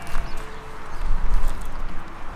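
Pony hooves clip-clop in a short run of steps, close by, over a noisy outdoor background.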